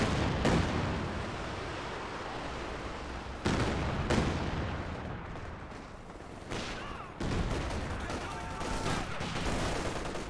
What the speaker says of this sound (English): Barrage over here.